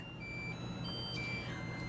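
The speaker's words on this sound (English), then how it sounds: "My 10-minute timer's gone off" Kitchen oven timer beeping after ten minutes of baking, a series of thin high electronic tones stepping between pitches over a steady low hum of kitchen background.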